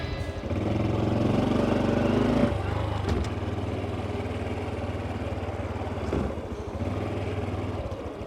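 A Honda Trail 125 motorcycle rides past with a steady engine drone, loud and close at first, then easing slightly and holding a constant hum with wind noise throughout.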